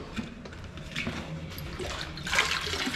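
Running water at a house for sale in Asunción Mita, Guatemala, a steady rushing and splashing flow that swells louder near the end, with no talk over it.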